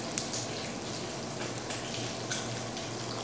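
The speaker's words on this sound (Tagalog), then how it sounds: "lalagyan natin ng mainit na tubig" Hot, already boiled water pours into a cooking pot, a steady close splashing gush lasting a few seconds with small clinks, no voices.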